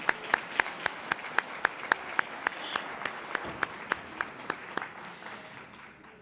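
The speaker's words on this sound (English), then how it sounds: "please give them a round of applause" Light applause for fourth grade students at a Silver Stars event, a few distinct, evenly spaced claps over a soft wash of more distant clapping that slowly fades out.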